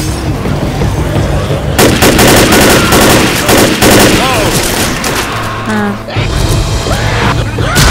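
Rapid auto shotgun blasts in Left 4 Dead, loud and dense, mixed with other gunfire and game effects in tight bursts for most of the stretch.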